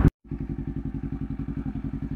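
An ATV engine chugs steadily on an off-road trail, its rapid regular pulsing loud and close after a brief burst and a short gap at the start.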